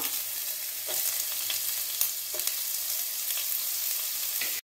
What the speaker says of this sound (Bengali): এবার তেলের মধ্যে আমি গাজরগুলোকে ছেড়ে দিলাম ফ্রাই করার জন্য।